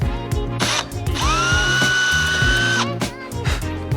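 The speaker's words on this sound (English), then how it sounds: "Give them all a little pilot drill" A power drill whirs up and holds a steady high whine for a couple of seconds, drilling pilot holes in aluminium, loud and close, with clicks and knocks of handling around it.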